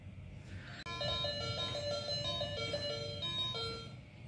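Children's educational toy laptop powering on, playing a bright electronic jingle of clear repeating tones after a click, steady and close with a faint background hiss, no talk.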